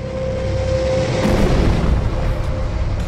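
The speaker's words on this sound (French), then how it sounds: "Ce fut une explosion gigantesque qui a laissé un trou énorme." A meteorite crashing onto the Moon sets off a loud, sustained rumbling boom in an animated science documentary, with a steady hum beneath and the roar swelling briefly in the middle before rolling on.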